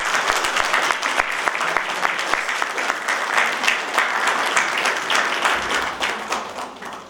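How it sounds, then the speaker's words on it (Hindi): An audience at a university convocation in Uttarakhand claps steadily and loudly throughout, a full round of applause that fades slightly at the end. "तालियां में बहुत कंजूसी कर रहे हैं आप लोग।"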